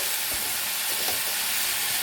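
Moong dal fries in ghee in a pan for winter khichuri, giving a dense, steady sizzling hiss. The sound is close and even, with faint stirring underneath.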